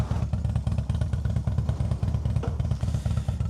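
A custom Harley-Davidson Dyna Street Bob idles up close, its V-twin engine thumping out a loud, lumpy, uneven beat with mechanical clatter, with no other sound over it.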